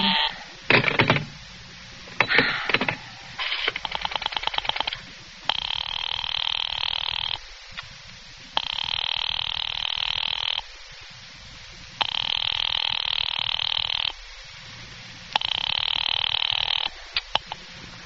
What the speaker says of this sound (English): I've been dialing Murray Hill 70093 now for the last 3/4 of an hour, and the line is always busy